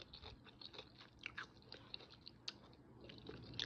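Close, quiet chewing of crunchy battered and fried zucchini, with irregular crisp crunches and bites over soft mouth noise.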